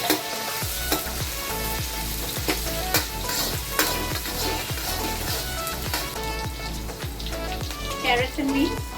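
Garlic frying and being stirred in a pan for egg chicken fried rice, a steady loud sizzle with regular scraping stir strokes throughout, no talk.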